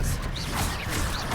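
A Hogwarts Legacy spell effect for the Expelliarmus disarming charm, a dense, loud whooshing burst with sharp swishes and crackle filling the whole brief moment.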